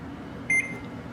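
A kitchen timer gives one short, bright electronic beep as it is set for baking brownies, sharp and close against a quiet room.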